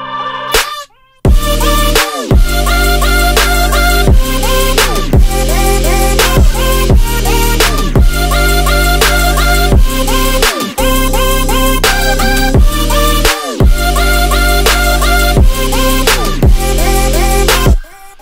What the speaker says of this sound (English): it's just a lot of vocal chops, overlayered